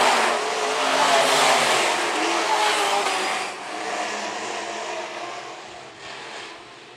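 Modified race cars run the top of the track at Phillips County Raceway during a modified feature, engines roaring loudly at full throttle as cars sweep past, the sound fading slightly then surging again.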